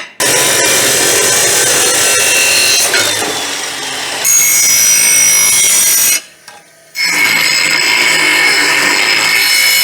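A 5x6 steel plate being cut with a loud, harsh power tool, heard up close in long continuous passes with one brief pause and shrill high ringing throughout.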